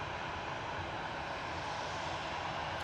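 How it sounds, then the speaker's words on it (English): A Loganair aircraft arriving at Manchester Airport, heard as a steady, distant engine roar with a broad, even rumble. No voices are heard. "Logan Air just arriving in the background."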